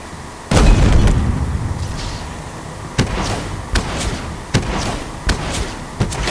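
Gunfire in the shooter video game Halo Infinite, with one heavy booming blast followed by a series of sharp, evenly spaced shots over steady battle ambience, close and loud.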